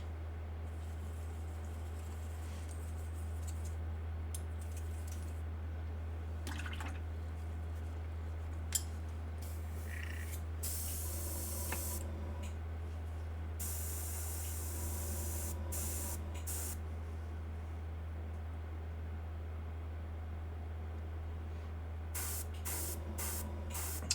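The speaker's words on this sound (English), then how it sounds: "airbrush on. Do the golden brown first." An airbrush sprays golden brown paint in short, faint hissing bursts that start and stop at irregular intervals, under a steady low electrical hum with no talking.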